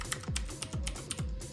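Keys clatter on a Lindon-Tech Bluetooth mechanical keyboard, a steady run of crisp, clicky keystrokes in quick rhythm, close up and fairly quiet with no talking.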